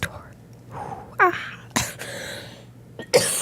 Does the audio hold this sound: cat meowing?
no